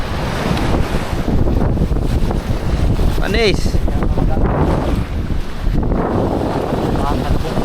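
Strong wind at sea buffets the microphone with a loud, constant roar over surging waves during a typhoon while fishing, and a person briefly speaks amid the gusts.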